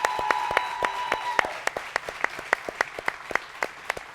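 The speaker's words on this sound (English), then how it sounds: "Let's get one big round of applause for all of our winners." Applause for award winners at a local causes grant awards ceremony: sharp individual claps ring out over a softer wash of clapping, then thin into scattered separate hand claps toward the end.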